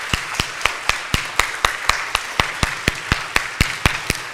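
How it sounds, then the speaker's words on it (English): A church congregation claps in unison, sharp evenly spaced claps falling about four times a second in a steady rhythmic beat, loud and close with a faint murmur of the room beneath. "Clap like something good has happened to us."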